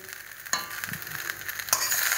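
Rice fried with peas, cabbage and egg sizzles in a pan while a utensil stirs and scrapes, giving a couple of sharper clinks over a continuous hiss, with no talking.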